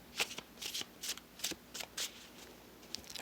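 Madhouse Tarot cards being shuffled by hand, giving close, soft riffling bursts in a quick irregular rhythm, heard alone at low volume.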